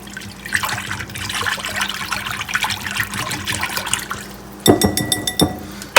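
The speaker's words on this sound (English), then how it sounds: "let me whisk this up a tiny bit" A sauce for General Tso's chicken whisked briskly, sloshing liquid sounds with a burst of quick, rhythmic clinking near the end, close and fairly loud, with no talking.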